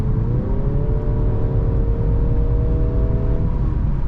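A 2023 Mercedes C-Class engine in Sport mode heard from inside the car while driving. It gives a steady, loud, droning hum with a faintly rising tone and no voices.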